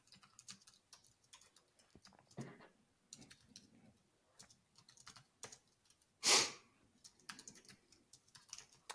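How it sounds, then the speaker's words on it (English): Quiet keystrokes on a computer keyboard patter in irregular bursts, with one louder clack near the end, close and alone without talk. "I'm typing right now."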